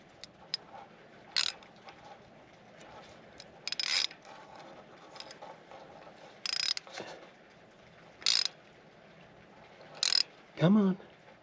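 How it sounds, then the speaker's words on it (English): Screw extractor being turned by hand to back out a broken bolt, giving a handful of short, sharp ratcheting clicks in separate bursts spaced a second or two apart over a quiet background. "I like these because as you unscrew it, it tightens down."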